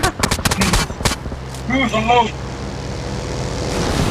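Gunfire in the battle royale video game PUBG: a rapid burst of automatic shots in the opening second, then a lone shot, followed by a player's excited voice and low game ambience.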